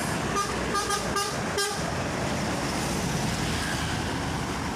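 A tour bus on a road in Palembang gives a few short horn toots, then rolls past with a steady, close road rumble that holds to the end.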